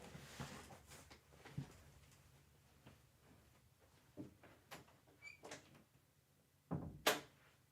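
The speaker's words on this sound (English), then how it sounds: "Let me shut this door." An indoor door is pushed shut with soft knocks, clicks and a sharp final thud, amid quiet room ambience and scattered small handling sounds.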